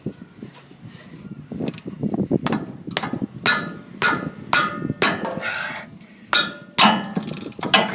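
A socket wrench working a bolt loose on a front u-joint of a 2007 Dodge Ram 2500 4x4, a series of sharp metallic clicks and clanks coming in irregular bursts at close range, with no talk.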